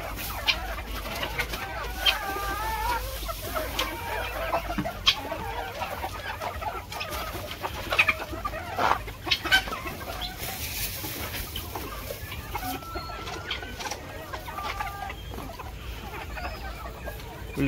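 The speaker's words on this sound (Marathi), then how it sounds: "बघू शकतो कशा पद्धतीने कोंबड्या खातात." Desi village chickens pecking at harvested rice scattered near their shed on a farm, clucking steadily in a busy, close chorus with scattered sharper calls and faint background noise.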